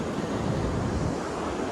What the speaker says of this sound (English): being out here and just hearing the ocean